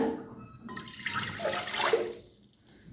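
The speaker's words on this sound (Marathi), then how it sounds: "एक गिलास पाणी टाकले" A glass of water is poured into a pressure cooker on a gas stove, a soft splashing, gurgling stream lasting about two seconds, quiet and close, with no talking.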